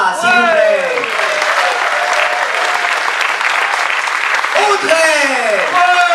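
Loud, sustained audience applause for improv performers at a theatre festival show, steady clapping filling the room throughout with a few vocal cheers and an announcer's voice heard over it.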